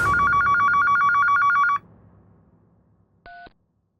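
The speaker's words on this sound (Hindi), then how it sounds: "अचानक फोन बजा।" Old-style telephone bell ringing in a home, a loud rapid trilling ring lasting under two seconds, then quiet room hiss and a short single electronic beep.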